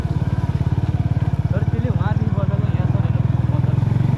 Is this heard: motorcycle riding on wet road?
yes